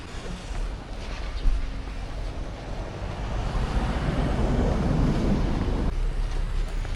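Steady outdoor wind at a cafe in Baguio, Philippines, rushing and buffeting the microphone, a broad continuous roar that swells gradually louder, with faint voices barely audible underneath.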